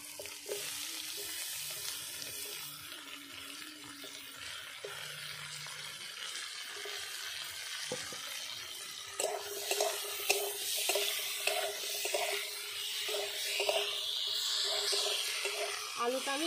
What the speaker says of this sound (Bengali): আলুটা আমি 2 মিনিট মতো ভেজে নিয়েছি।